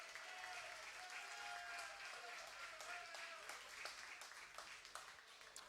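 Studio audience applauding a college football coach arriving from practice at a live coaches' show, sustained crowd clapping with scattered sharp claps, faint and distant, with talking over it.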